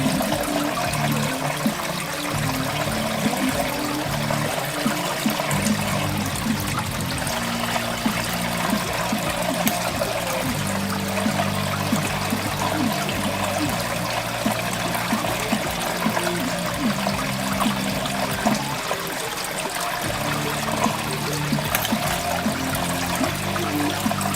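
Water rushing steadily through a gold prospecting sluice box in a stream, a close, continuous splashing and gurgling flow with no pauses and no talking.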